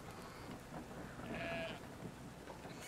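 Sheep bleating in the video game Brothers: A Tale of Two Sons, a short wavering bleat in the middle of a steady patter of rain-like ambience, with no talking over it.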